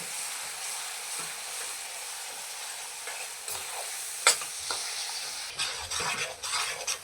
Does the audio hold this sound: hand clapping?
no